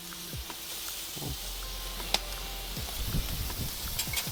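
Onglet steak grilling over a barbecue fire on GrillGrate panels, a soft steady sizzle with scattered crackles and small pops, fairly quiet and continuous.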